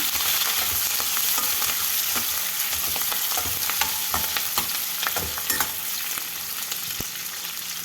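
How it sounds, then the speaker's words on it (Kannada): Slit green chillies and finely chopped capsicum sauté in a pan with a steady, close sizzle, broken by frequent sharp scrapes and clicks of stirring and no voices. "ನಾಲ್ಕು ಹಸಿಮೆಣಸಿನ್ಕಾಯಿ ಸ್ಲಿಟ್ ಮಾಡ್ಕೊಂಡಿರೋದು ಮತ್ತು ಸಣ್ಣದಾಗಿ ಹೆಚ್ಚಿಟ್ಕೊಂಡಿರೋ ಕ್ಯಾಪ್ಸಿಕಮ್ ಎರಡು ಈಗ ಇದನ್ನು ಸ್ವಲ್ಪ ಬಾಡಿಸ್ಕೊಳ್ಳೋಣ"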